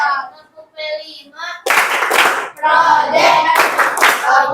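Rhythmic group clapping for a Tepuk P5 clap chant, with bursts of claps following chanted lines from a young voice, loud and close.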